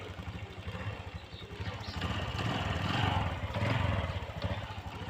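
A Honda Wave 110i motorcycle engine with a blown fuse idles steadily after starting, with an uneven, chugging rumble that swells a little louder midway, close by and with no talking.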